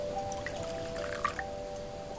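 Liquor dribbles into a cup in a hotel room, a faint, soft trickle with scattered small drips and splashes over a low steady hum, close by and with no talk.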